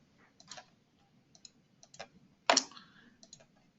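A computer mouse clicks a few times in a quiet room, producing sparse, short, faint clicks with one louder click near the end and no talking.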